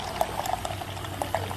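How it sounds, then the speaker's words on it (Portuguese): Water poured into a pressure cooker during home cooking, a continuous close splashing and bubbling stream with small sloshes, heard alone without speech. "E agora eu vou colocar aqui a água."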